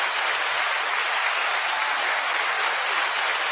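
Applause sound effect: a steady, dense wash of many hands clapping, even and sustained from start to finish with no voices over it.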